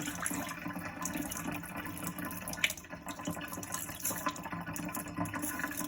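Cooking water pours off a pot of rice as it is drained, a steady splashing and gurgling rush that runs continuously at close range.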